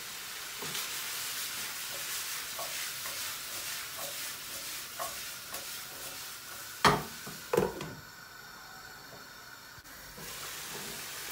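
Meat and carrots stirred while frying in a pot for tas kebab, with a steady low sizzle and hiss, scattered scraping taps of the spoon and a couple of sharper clanks near the end.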